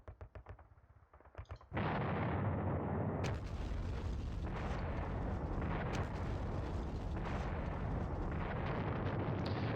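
Artillery guns firing in the John Tiller Panzer Battles war game: a few brief pops at the start, then a loud, sustained rumble of blasts and explosions that continues to the end.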